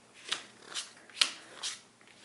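Playing cards dealt by hand into three piles for a board game setup, each card landing with a soft flick, about four or five quiet slaps spaced roughly half a second apart, close by.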